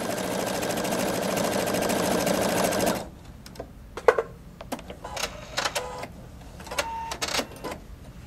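A Pfaff Creative 3.0 sewing machine stitches a taper in a rapid, continuous mechanical whir for about three seconds, then stops, leaving scattered clicks, taps and a short beep at close range.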